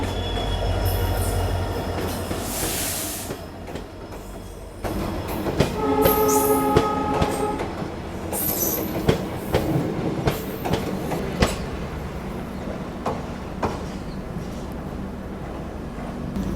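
A WDP4 diesel locomotive hauls a superfast express past a small station crossing, with a loud rumble, rhythmic clickety-clack of wheels over rail joints, and bursts of squealing wheels close by.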